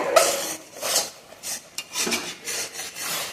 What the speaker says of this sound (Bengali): এইভাবে নেড়ে নেড়ে পুরো শুকনো করে নিতে হবে